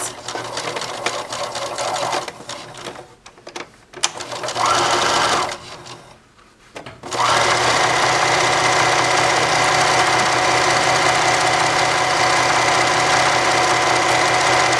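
A sewing machine stitching the two handles of a purse together, a loud close mechanical whir with a few short pauses early on, then running steadily without a break.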